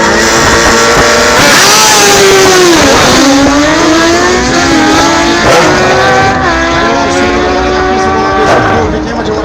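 Drag racing motorcycles launching at a Gaúcho state championship strip, their engines loud and close with rising and falling revs that sweep up and down in pitch across a continuous roar.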